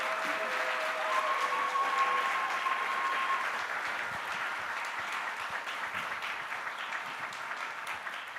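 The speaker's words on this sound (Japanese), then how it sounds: "But please applause more for them." Audience applause at a lecture hall event, a sustained wash of clapping from a large crowd lasting the whole stretch, steady and moderately distant, with faint tonal sounds briefly over it.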